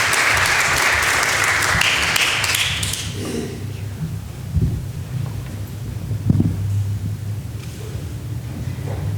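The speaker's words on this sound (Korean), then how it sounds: "환영의 박수로 우리 맞이하겠습니다" At a Sunday afternoon church service, the congregation breaks into brisk applause to welcome a speaker. The clapping lasts about three seconds before cutting off into a quiet room with a few scattered taps and knocks.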